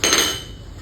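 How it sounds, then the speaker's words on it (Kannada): Dried coconut is cut in a home kitchen: one sharp, loud hard knock that rings briefly and fades, heard alone. "ನನ್ನ ಮನೆಯವರು ಕೊಬ್ಬರಿ ಕಟ್ ಮಾಡ್ತಿದ್ದಾರೆ"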